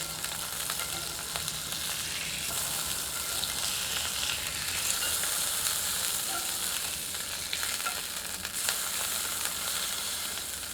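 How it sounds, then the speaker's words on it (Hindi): A chicken burger patty grills in oil over a medium flame in an unbroken, even sizzle with faint crackling pops, moderately quiet and with no voices. "तेल में 5 मिनट मीडियम आंच पर ग्रिल करते हैं।"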